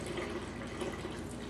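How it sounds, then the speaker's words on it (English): Sanitizer liquid drains through a keg picnic tap in a faint, steady trickling flow that runs unbroken for a moment. "I'm going to release it through the tap, the picnic tap"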